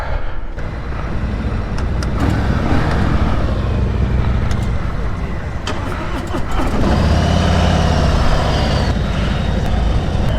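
A 2020 Harley Davidson Ultra Limited motorcycle engine runs close and loud, a continuous deep rumble with a slight rise in intensity partway through, without any voices.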